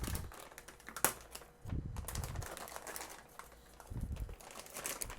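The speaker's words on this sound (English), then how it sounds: "Just regular plastic wrap." Regular plastic wrap crinkles as an MSI RTX 2060 Ventus XS graphics card is unwrapped, with quiet, close, irregular bursts of crackling and a few sharper rustles separated by brief pauses.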